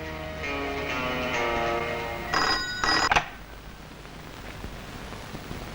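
A telephone rings indoors in a Hindi film scene: two short electronic ring bursts, fairly loud and clear, following quieter tonal sound and fading into a hushed background.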